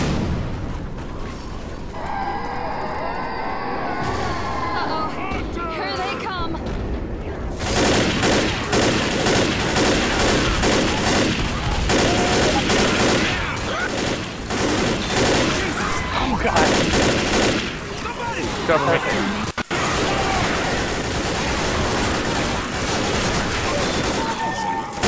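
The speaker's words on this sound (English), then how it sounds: "Shooting the zombie." Loud, rapid gunfire blasts at a zombie in a video game, with dense, near-continuous volleys and booms after a brief quieter opening, and a voice faintly underneath.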